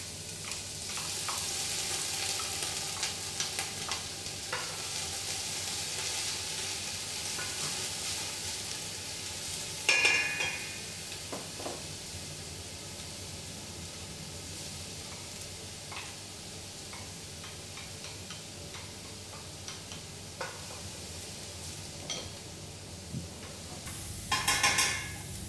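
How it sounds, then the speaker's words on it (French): Onion and shallot sizzle in melted lard in a wide rondeau pan, a steady close crackle with occasional clinks and scrapes of stirring and louder bursts near the middle and end. "Faire fondre le saindoux au fond du rondeau. Commencez par faire fondre l'oignon et l'échalote."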